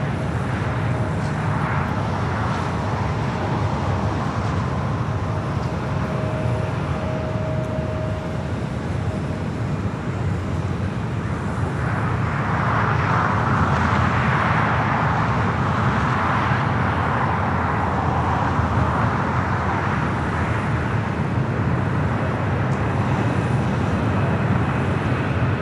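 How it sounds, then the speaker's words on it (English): Delta Airbus A350-900 from Tokyo Haneda arriving at LAX, a broad, steady jet roar that swells gradually and stays loud across the whole stretch with no talk, the sound of a large airliner passing on approach. "We do have Delta Flight 8 coming from Tokyo Haneda, the A350 900 up next for arrival."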